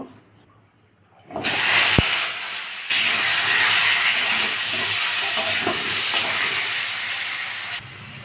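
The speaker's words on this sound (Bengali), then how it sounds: "আলুটাকে লবণ হলুদ দিয়ে ভেজে নেব" After a moment of silence, loud sizzling bursts out as potatoes with salt and turmeric hit hot oil. The hiss holds steady for several seconds, then cuts off abruptly.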